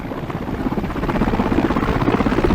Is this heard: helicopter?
yes